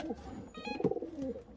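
A pigeon cooing during bird registration beside an electronic timing system antenna; a soft, close, throaty coo with a few wavering notes over about a second and a half.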